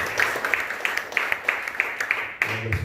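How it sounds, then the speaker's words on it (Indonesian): A church congregation claps for Jesus in a sparse, fairly steady rhythm, the claps fairly faint and slightly distant, ending with a low murmur. "Beri tepuk tangan buat Tuhan Yesus Tuhan."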